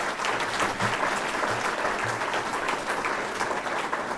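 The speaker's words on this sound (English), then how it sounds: "So again, a round of applause for tonight's event." A dinner audience at a scout award event claps steadily, dense even applause at moderate level that continues for the full few seconds, heard alone without speech.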